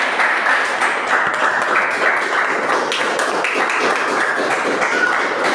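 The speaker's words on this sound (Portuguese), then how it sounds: "Salva de palmas aí" A church congregation claps steadily through a consecration of church workers and Women's Day celebration, a dense, continuous round of applause filling the room with little talk.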